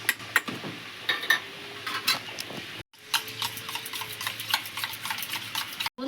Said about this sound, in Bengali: টক দইটা ফাটিয়ে নেব।